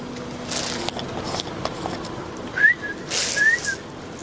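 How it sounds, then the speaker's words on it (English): A person gives two short, rising whistles outdoors by the water to call a swan for feeding, over a steady background of ambient noise. "So he knows my whistle and he knows my hair."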